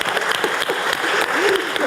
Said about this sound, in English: That does deserve an applause.